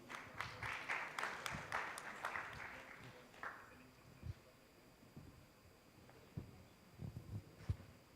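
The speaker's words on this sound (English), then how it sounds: "Can we have a great round of applause for him," Quiet applause from a conference audience rises briefly with distinct claps, then fades after about three seconds into a low room hush with scattered faint knocks.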